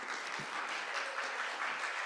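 An audience at the launch of the 2025 Caribbean Investment Forum in Jamaica applauds, a steady wash of many hands clapping at moderate distance, fairly faint, with no voices.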